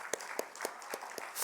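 A church congregation at a Thanksgiving worship service claps in a steady rhythm, about six even claps that sound fairly faint and distant. No talking is heard over them.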